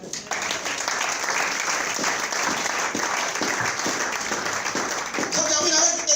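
Church congregation applauding steadily for about six seconds, a dense sustained clapping with a few voices and cheers mixed in, loud and close, swelling slightly near the end.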